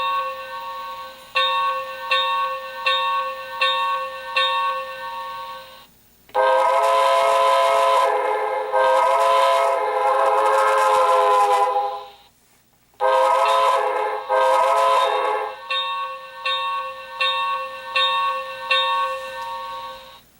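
Repeated short toy-train bell dings, then long whistle blasts with a brief gap, followed by more rhythmic bell ringing; loud and close with no talk.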